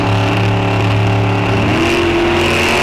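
An Oldsmobile drag car launches at Rock Falls Raceway with a loud, steady engine drone, its pitch shifting as it revs.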